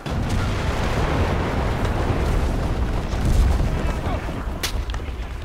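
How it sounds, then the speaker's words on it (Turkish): Bombs go off continuously in the Enlisted war video game as heavy, rumbling blasts that overlap into a loud, churning barrage, with a sharper crack near the end. "Habire bomba atıyorlar."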